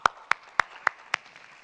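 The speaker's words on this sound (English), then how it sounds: "I think we should give a round of applause." Five crisp, evenly spaced hand claps at a digital summit conference, close and distinct against a quiet background, with no talking.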